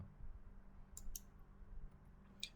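Computer mouse clicks during CAD drafting, three crisp, faint ticks spaced apart over a quiet room hum, with no talk.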